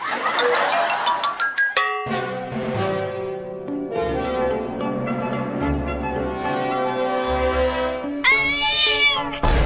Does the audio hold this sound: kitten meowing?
yes